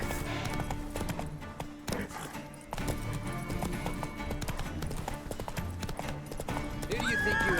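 A horse gallops in The Witcher 3, rapid rhythmic hoofbeats pounding continuously up close, mixed with game music and effects while a voice speaks over it.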